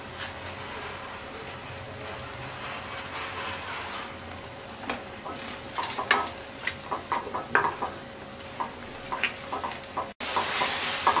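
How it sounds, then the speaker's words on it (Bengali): Spice masala with tomato puree, salt and lemon juice is stirred and fried in a pan for snakehead fish dum biryani: a soft, steady sizzle under a series of irregular scraping, clinking spoon strokes against the pan. "এবার মশলাটাকে ভালো করে কষিয়ে নেব"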